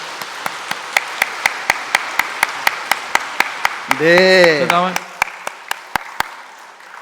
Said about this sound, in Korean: 한 번 더 크게 박수 쳐주세요